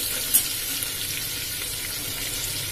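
Finely chopped garlic, green chili and curry leaves fry in a pan for stuffed dal dhokli, a loud, even hiss of hot oil sustained throughout with one small clink near the start.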